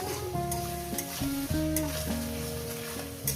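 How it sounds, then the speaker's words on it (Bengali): Onions frying in oil in a pan until reddish pink, a steady close sizzle with stirring scrapes, under background music with no talk. "ভালো করে সুন্দর করে পেঁয়াজটাকে একটু লাল লাল করে ভেজে নেব বেশি পোড়া পোড়া নয়"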